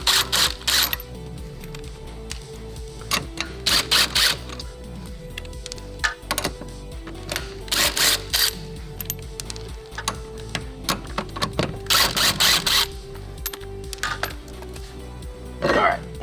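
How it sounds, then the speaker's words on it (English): Lug nuts come off a golf cart wheel with repeated bursts of a ratcheting tool between quieter clicks and handling sounds, close and fairly faint. "I've got the lug nuts loosened, and now I'm gonna completely take them off."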